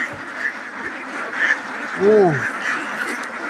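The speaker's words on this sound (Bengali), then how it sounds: "হাঁসটাও আপনারা দেখতে পারবেন কিভাবে ভুট্টাটা দিতেছি, কিভাবে ভুট্টাটা খাওয়াইতেছি" Ducks on a duck farm being fed corn, with background noise and one clear, close quack in the middle.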